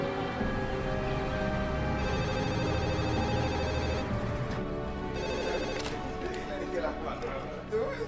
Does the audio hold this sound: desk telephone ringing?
yes